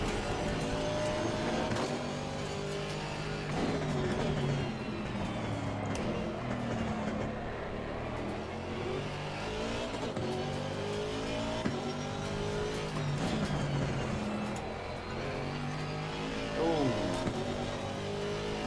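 Race car engines from Assetto Corsa Competizione, with a McLaren and a Porsche in the field, drone and rev continuously through a sector of an evaluation race. Someone talks over the engine note throughout.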